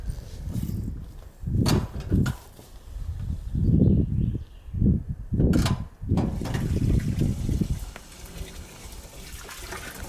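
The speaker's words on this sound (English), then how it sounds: "I'm just going to make myself a bath" Running water fills a bath in a remote lodge in the hills near Bern, Switzerland, a steady close rush with uneven surges and swells.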